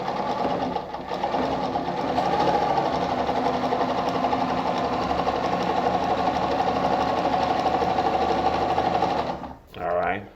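A Pfaff model 230 sewing machine runs steadily at speed with a continuous, close mechanical whir and rhythmic needle clatter while sewing short stitches, stopping near the end with a brief pause and a short restart.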